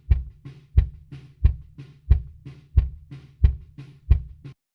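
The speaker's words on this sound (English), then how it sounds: "So let's have a listen to the kick in microphone." Kick drum captured by a kick-in microphone inside the drum in a home studio, striking about ten times in a steady beat, each a punchy, close thud with a sharp click and faint bleed from the rest of the kit.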